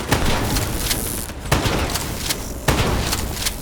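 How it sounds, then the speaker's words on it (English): Shotgun blasts from the single-player campaign of Call of Duty Black Ops 3, three sharp booming shots spaced about a second apart, each with a loud attack over a dense, noisy game soundscape. "We get 4 shotguns in the single player campaign that all do the same thing,"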